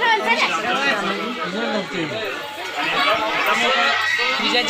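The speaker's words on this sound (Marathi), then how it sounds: "गर्दी खूप आहे रांग लागलेली आहे" Dense crowd of pilgrims chatter at Ramling temple in Kolhapur, many overlapping voices forming a steady, close hubbub throughout.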